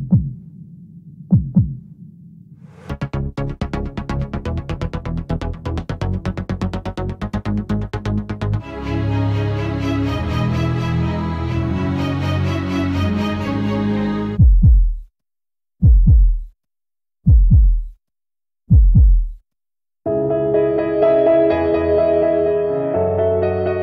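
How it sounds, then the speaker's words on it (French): Audi heartbeat sound effect built into a musical score: deep throbbing pulses under layered instrumental tones, then a series of heavy, separated beats with pauses between them, loud and close. "Dans cette scène, le battement de cœur Audi est très important."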